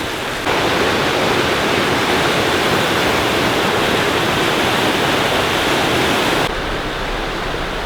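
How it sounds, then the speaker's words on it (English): The powerful Moelva river rushes in a loud, continuous broadband roar of churning water that holds steady for several seconds without pause. "If you want to see like how much power there is in this river, it's quite a lot."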